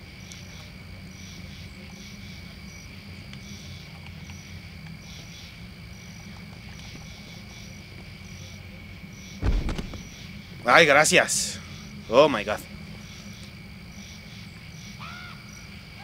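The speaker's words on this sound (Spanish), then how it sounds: "Aún sigo oyendo los grillos." Cricket chirping loops steadily through a wrestling video game scene in WWE 2K19, a faint constant bed of insect trills with brief louder game sounds and a short exclamation partway through.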